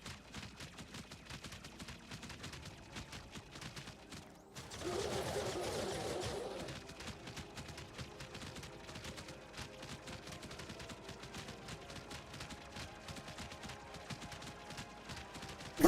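Video game explosions burst out in a loud, dense blast around the five-second mark, sitting over a constant busy backdrop of rapid gunfire-like crackle and clatter that runs through the whole stretch.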